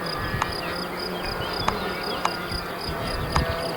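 Small radio-controlled model airplane engine buzzes steadily at a flying field during a training flight, a high, thin, insect-like whine held at a constant pitch, moderately distant, with a few faint clicks and no speech.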